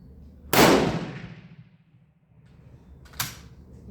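A single loud, close rifle shot from a 1939 Tula Mosin Nagant, its sharp crack decaying over about a second, followed by a fainter second bang or echo moments later.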